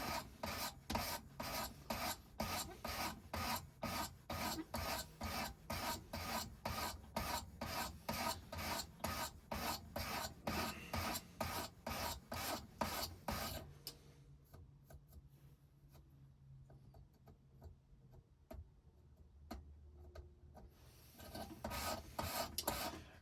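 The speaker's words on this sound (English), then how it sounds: "I'm just going to sharpen this into 25 degrees" A metal file rasps in steady, rapid back-and-forth strokes as a blade is sharpened to 25 degrees. The strokes are close and loud, pause for several seconds of quiet, then resume.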